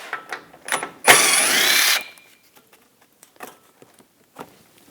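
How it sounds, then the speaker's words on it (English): A 10mm socket ratchet works a shield bolt loose on a 2013-2022 Buick Encore, giving one close, loud burst of about a second, then faint scattered clicks and handling noises. "use a 10mm socket, take these bolts out"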